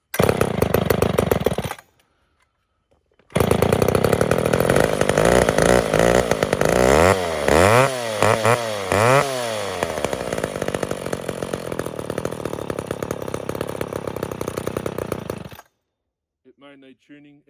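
An old McCulloch Super 10-10 chainsaw fires up after a short pause, revving hard in several rising and falling bursts before settling into a loud, rough running drone that cuts off abruptly near the end.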